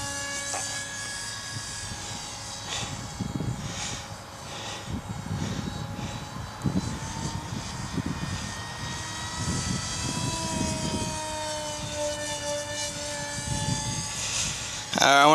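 An Alley Cat RC model airplane is in flight, its electric motor giving a faint, wavering distant whine that rises and falls as it passes, while someone talks over it throughout.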